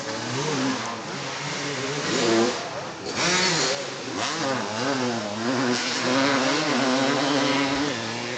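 Motocross motorcycles race at a Memorial Weekend event, including a 1994 Honda 250 two-stroke, their engines droning and revving continuously at mid distance, with people talking over the engine noise.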